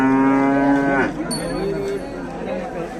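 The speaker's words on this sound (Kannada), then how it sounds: "ಭಾಳ ಹಸುಗಳು ಬಂದಿದ್ದಾವೆ" Cow at a cattle market in Ranebennur, India, lets out one long loud moo up close, then low crowd chatter and market bustle carry on through the rest.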